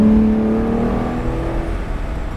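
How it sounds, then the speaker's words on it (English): Aston Martin DB9 with a 2007 V12 engine, heard as a loud, steady, close engine note with a strong low hum that slowly eases off, with no talking. "The sound of the V12 is just so easy on the ears."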